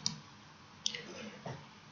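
Mouse clicks while trying to interact with things in the game causality, three or four faint, sharp separate clicks spaced across a quiet moment.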